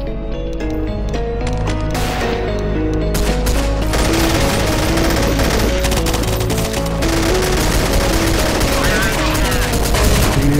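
A cannon weapon fires in rapid, dense bursts during a Counter-Strike: Source zombie escape match, with heavy continuous gunfire layered over game music and effects.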